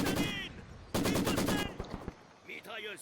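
Machine gun fire in the Company of Heroes 2 video game comes in two rapid, loud bursts of rattling shots, with a short pause between them and softer game sounds after.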